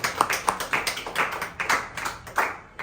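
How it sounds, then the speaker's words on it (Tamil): A congregation claps their hands in praise, a steady run of sharp, loud claps at a brisk, even rhythm with no voices. "கைத்தட்டி ஆண்டவர் மகிழ்ச்சிப்படுத்தினார்."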